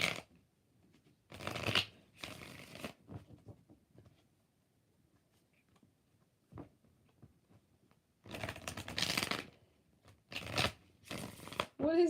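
A tarot card deck is riffle-shuffled close up in several short, crisp bursts separated by quiet pauses, with faint murmuring between shuffles.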